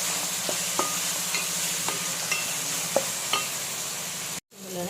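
Mutton curry with mint and coriander is stirred in a pan, a steady sizzle with regular scraping strokes of the spoon, about one every half second, close up and without talk.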